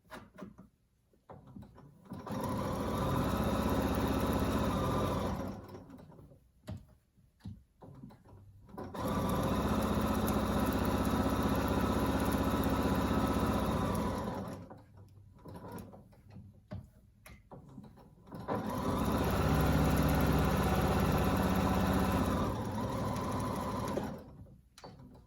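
Domestic sewing machine stitching a fabric face mask, running in three loud, steady bursts of several seconds each, separated by short pauses with faint handling clicks.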